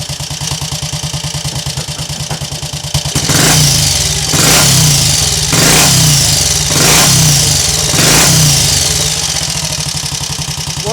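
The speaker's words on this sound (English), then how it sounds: "I can stop the engine by snapping the throttle open, but I can also stop it by opening the throttle just a little too" A Triumph Scrambles Tiger Cub replica motorcycle runs just after a cold start, its small single engine idling in a steady thump. It is then blipped through about five sharp throttle bursts, loud and close.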